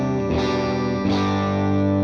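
A guitar runs through a distortion pedal's gain stage at a low gain setting, with two struck chords ringing out in mildly overdriven, sustained tones that fill the short passage.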